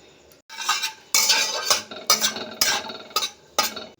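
Cashew nuts are stirred in hot oil in a pan, metal utensil scraping and clinking against the pan in about six distinct strokes, close and clear, with little audible sizzle.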